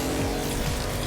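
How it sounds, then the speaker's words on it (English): A car in the video game Agents of Mayhem slams into a tree: a loud, steady engine roar with tire skidding and scraping, close and constant throughout the moment. "Just wrap my car around the tree intentionally."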